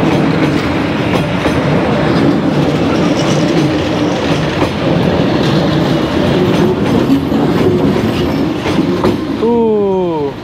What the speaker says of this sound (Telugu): 2 నిమిషాల పాటు వెళ్తుందంట ఈ ట్రైన్